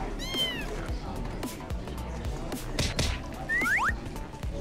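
A cat meows a few times, short rising and falling cries near the start and again near the end, mixed in with clattering noises and a busy background.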